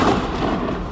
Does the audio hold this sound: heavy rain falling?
no